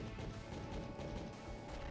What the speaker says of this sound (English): I got smashed by the chest.